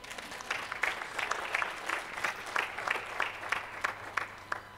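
An audience applauds at a church gathering, a steady patter of many hands with sharper individual claps standing out, fairly faint and somewhat distant, with no talk over it.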